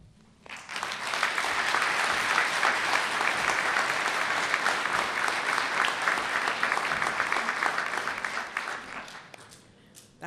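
An audience at a graduation ceremony applauds steadily for about ten seconds, a dense, even wash of clapping that swells in quickly and fades out at the end.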